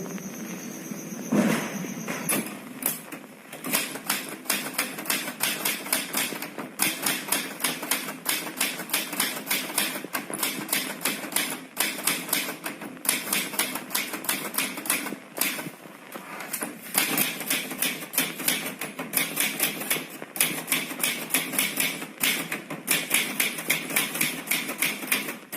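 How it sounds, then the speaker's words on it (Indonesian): A manual typewriter clacks away as the Indonesian proclamation text is typed in a short film, with rapid irregular keystrikes running continuously and brief pauses between bursts, close and fairly loud, with no voices. "Apakah saudara siap mengetik teks proklamasi?"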